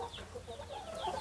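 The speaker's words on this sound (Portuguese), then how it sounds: "as galinhas estão lá já botando os ovos aqui" Hens cluck softly in a farm chicken coop where they are laying eggs in nests: a few short, quiet clucks over faint background noise, with no talking.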